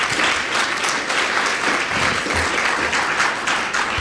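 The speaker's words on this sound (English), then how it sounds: "You can applaud if you want." Steady applause fills a graduation gathering after a workplace speech, many hands clapping together in a dense, continuous wash that holds at the same level throughout.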